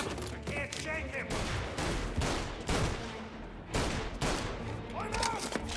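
Gunfire in the video game Mafia: Definitive Edition, dense rapid shots over a busy game soundscape with shouted voices under the shooting.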